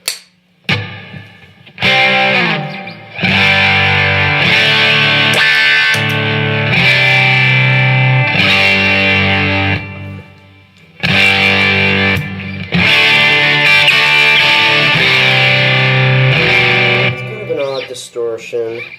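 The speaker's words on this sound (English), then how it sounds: "very uncompressed, I guess, distortion, sort of." A Squier Telecaster electric guitar, surf green, played through an analog fuzzy overdrive distortion pedal, rings out in loud, gritty sustained chords in two long phrases separated by a brief pause, close and alone.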